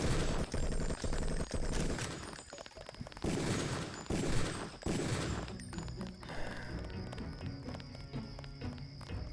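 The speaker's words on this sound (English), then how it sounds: "Reuben, when in doubt, just start shooting." Gunfire in the Deus Ex video game: a busy, fairly faint clatter of repeated shots and impacts mixed with game noise throughout, easing into a lighter rattling stretch toward the end.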